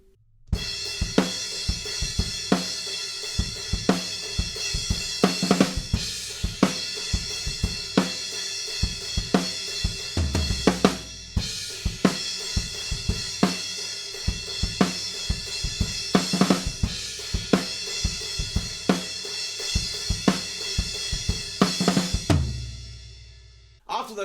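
Full-speed drum riff section from a song, played on a rock kit with heavy kicks, tom hits and constant washing cymbals over a backing track, dense and loud throughout, ending in a brief drop-out.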